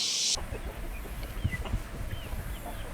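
Chickens cluck softly in short bursts, nearby, with a brief high chirp at the very start and low rustling throughout; no one speaks.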